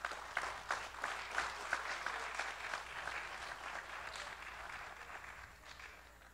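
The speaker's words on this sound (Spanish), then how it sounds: "Recibimos con un fuerte aplauso a don Tulio Duarte Alvarado." Steady applause from an audience at a festival tribute to marimba players, dense clapping that holds for several seconds before gradually thinning out toward the end.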